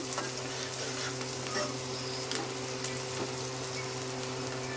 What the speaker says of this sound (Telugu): ఉల్లిపాయలు అయితే ఎర్రగా వేగిపోవాలండి